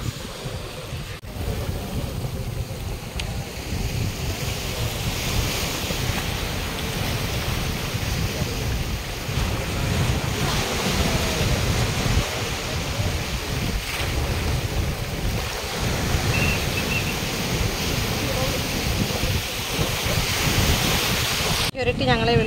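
Sea water surging against rocks on a dangerous rocky shore, a steady close roar of waves mixed with heavy wind buffeting, continuous for the whole stretch.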